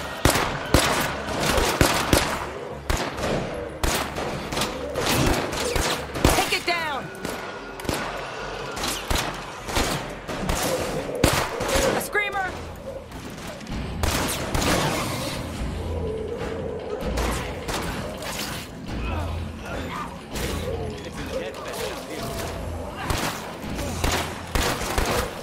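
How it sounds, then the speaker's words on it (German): Rapid bursts of gunfire from State of Decay 2 rattle on and off across the whole stretch, dense and loud, with heavy thumps and booms in between. "Schieß mal auf den."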